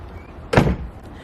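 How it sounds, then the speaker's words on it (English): A backyard chicken coop door shuts once with a short, solid thud and a brief rattle, close by against quiet outdoor background. "My door just shut."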